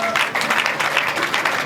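Guests at a wedding applaud in a thick, continuous wash of clapping, close and fairly loud, with faint voices mixed underneath.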